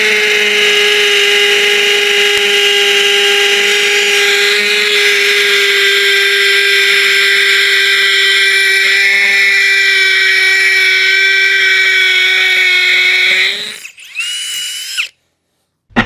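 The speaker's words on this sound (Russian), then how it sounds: "Ну и погнали сверлить." A DEVETECH CIS 120 cordless drill drilling at high speed, a loud, steady, close-up whine held for about thirteen seconds before it cuts out and briefly restarts.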